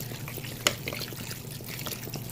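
Spring water is poured over sea moss to rinse it. The pour is a soft, continuous trickle with one sharper splash near the start, close by and moderately quiet.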